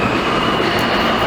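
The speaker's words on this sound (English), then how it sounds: "So I'm guessing that this train is going to Bay Ridge and is just stopping here." A New York City Subway R train made up of R160 and R46 cars rumbles along in a steady, loud roar of wheels and motors, heard up close with no voices.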